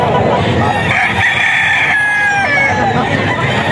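A young rooster, a stag, crows in a farmyard, its drawn-out call rising and falling over steady background noise and a faint murmur of voices, loud and near.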